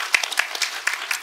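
Crowd applause at a live stage event, a short, loud burst of many hands with a few sharper individual claps standing out, ending abruptly after about a second.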